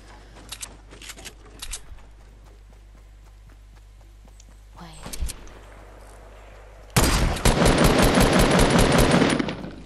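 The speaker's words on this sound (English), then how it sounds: "They're shotgun fighting." Shotgun fight in Fortnite Battle Royale: scattered gunshots and footsteps crackle early, then a loud, dense burst of rapid fire fills the last few seconds.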